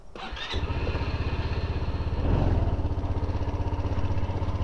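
Small Honda SH150i or Buddy 125 scooter engine, in worn condition, catching and running close by with a fast, even putter that swells briefly partway through, with no one talking.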